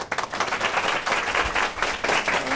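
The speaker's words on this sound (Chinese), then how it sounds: "掌声鼓励" A studio audience at a Taiwanese variety show claps and applauds in a loud, dense burst of many hands that swells and dips for a couple of seconds, with no one talking over it.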